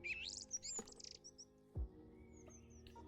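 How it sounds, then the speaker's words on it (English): Birds chirp and tweet in quick high phrases, faint and a little distant, around a mountain stream, with a brief low thump partway through. "As you hear the birds singing around"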